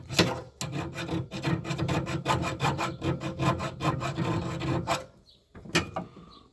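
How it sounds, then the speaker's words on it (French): Rapid rhythmic rasping as scrap metal, tinned copper, is scraped to expose its color; about twenty close strokes in steady succession, then a pause and one more scrape. "On va quand même gratter un coup."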